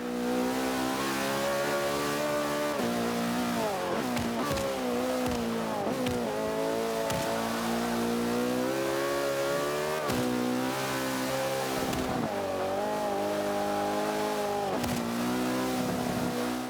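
A McLaren P1 engine at full race pace around the Nürburgring in Forza 5, loud and continuous, with the pitch climbing through each gear and dropping sharply at the shifts.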